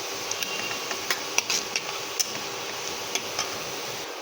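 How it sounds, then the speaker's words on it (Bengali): Chicken pieces fry in hot oil in a pan for a Bengali chicken korma, a steady high sizzle with scattered sharp crackles and pops at irregular intervals, alone without talk. "লাল লাল করে ভেজে আমি তুলে নেবো"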